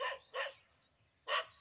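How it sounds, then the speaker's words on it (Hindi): Several dogs bark outdoors, three sharp barks heard at a moderate distance, two in quick succession and one after a short pause, faint against a quiet background. "ये कुत्ते हैं, जहां भी जाते तो कुत्ते भौंकना चालू कर देते हैं"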